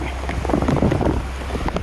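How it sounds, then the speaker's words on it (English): Steady rain patters on a backyard teepee tent, a dense close hiss with scattered drop taps and some wind rumble throughout. "It's raining."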